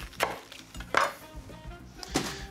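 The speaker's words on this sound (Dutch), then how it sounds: "Deze snijden we gewoon in mooie repen." Knife slicing pointed cabbage into strips on a cutting board, three sharp crisp chops spaced unevenly over a quiet kitchen background, close and clear with no talking.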